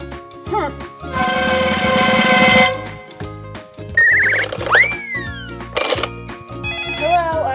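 A telephone bell rings in a loud burst in a children's story scene, mixed with music, cartoon sound effects and a voice.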